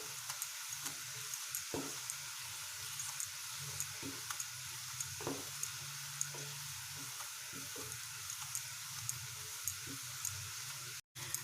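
Onions sizzle steadily in a hot pan for chicken korma, a constant soft frying hiss with faint pops and occasional light stirring clicks, no voices.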